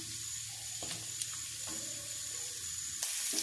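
Sliced onions frying in hot oil in a pan for Malabar-style onion rice, a steady close sizzle with faint crackles and a few soft stirring scrapes.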